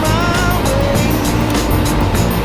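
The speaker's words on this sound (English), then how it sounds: "I'm going to give it some gas as I'm already engaged the clutch, turn the wheel, and go harder." Rear-wheel-drive car engine in second gear near 2,000 RPM while drifting, a loud, steady, dense roar held close throughout, with no clear shifts.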